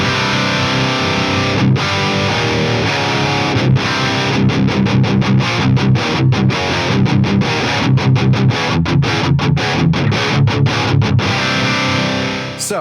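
High-gain electric guitar with high-output pickups played straight into a loud 120-watt amplifier, dense distorted chugging riffs with rhythmic palm-muted stops and sharp gaps, loud and continuous throughout.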